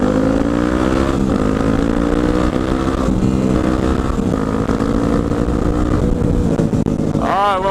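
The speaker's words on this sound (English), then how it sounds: "I love the sound of this exhaust." Motorcycle fitted with a new aftermarket exhaust, ridden on country roads through farmland, giving a loud, steady engine drone with rising and falling pitch as it cruises, ending in a sharp rev near the end.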